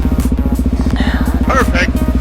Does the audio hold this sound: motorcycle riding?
yes